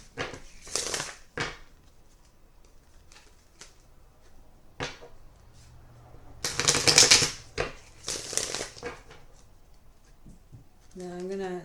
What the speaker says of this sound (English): Usually I will just shuffle until the cards fly out.